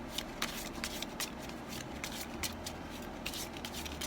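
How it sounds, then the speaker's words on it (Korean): Playing cards are shuffled and drawn for a tarot-style reading, with steady close riffling and crisp repeated flicks and snaps running throughout, no voices. "좋은 카드를 좀 뽑아보도록 할게요"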